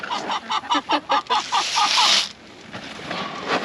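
A chicken squawks repeatedly in a quick rhythmic burst of loud, close calls, then quieter clucking and rustling follows.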